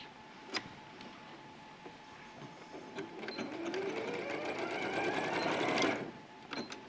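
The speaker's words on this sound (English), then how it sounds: "You just sew them together" A sewing machine stitches garment shoulder seams, a steady close mechanical whirr and rapid ticking that gradually builds and speeds up over several seconds before stopping, with a few isolated clicks around it.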